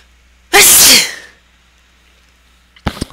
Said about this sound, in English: I'm gonna sneeze, aren't I?